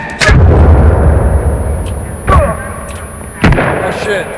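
Grenade blasts in the survival game Sons of the Forest: a loud booming burst at the start, followed by two more sharp explosive hits spaced about a second apart, with faint voices underneath.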